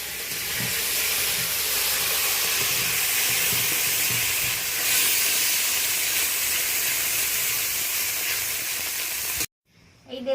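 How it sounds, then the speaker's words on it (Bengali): Roe-laden tengra fish fry in hot oil, a loud, dense, steady sizzle and hiss that carries on for several seconds before cutting off abruptly. "আরও কিছুটা পরিমাণ ট্যাংরা মাছ রয়েছে, সেটা আমি অল্প অল্প করে ভেজে নেব।"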